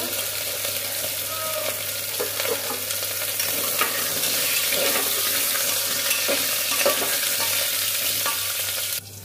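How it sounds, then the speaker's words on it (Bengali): Lata fish frying in a pan at home alongside potatoes and taro, a steady close sizzle with scraping stirring strokes throughout, no talk. "লাটা মাছগুলো ভাজছি।"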